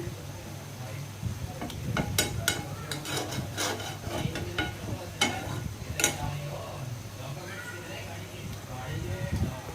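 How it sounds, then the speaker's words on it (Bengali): Small fish fry in a pan while being turned over, a continuous sizzle under repeated scraping and clattering strokes of a utensil against the pan, close by, with a voice speaking quietly in the background. "আমার তো মাছে মানে গুঁড়া মাছটা হয়ে আসছে আর একটু আমি ওলট পালট করে দিচ্ছি"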